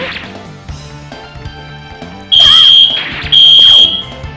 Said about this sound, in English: do you like fire alarms that sound like that?